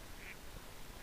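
Ducks in a farming video game let out two brief, faint quacks that sit under a steady wash of hiss.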